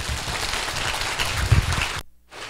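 Audience applause in a meeting hall after a lawyer's lecture on criminal procedure, a dense steady clatter of many hands for about two seconds, then cutting off abruptly into near silence.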